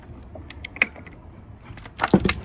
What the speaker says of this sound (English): I'm gonna use a 24 millimeter socket and a ratchet, and I'm gonna take this off.